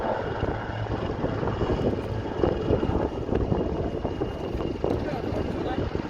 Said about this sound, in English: But this is also an attack helicopter